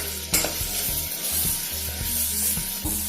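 Curry leaves and onions sizzle steadily in hot oil in a pan for a raw cashew nut mutton fry, a close continuous crackle punctuated by regular stirring taps against the pan.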